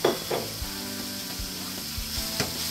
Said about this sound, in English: We're going to take about a pound of hamburger meat, put it down in a pot.